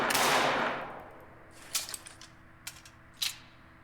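Three sharp pistol shots from the original Halo-style sidearm in Angels Fall First, spaced about a second apart after a fading burst of noise, fairly quiet and crisp with no voices.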